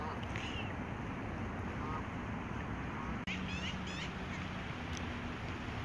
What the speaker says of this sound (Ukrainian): Гуси спустились на воду.